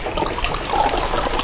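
Everclear grain alcohol poured steadily into a large container sitting in a sink, a continuous close, splashing liquid stream that runs the whole moment without talk.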